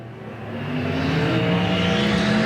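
A race car at Golden Triangle Raceway Park powers out of turn 4 during the Spring Havoc event. The loud, sustained engine roar builds steadily as the car accelerates away, with no speech.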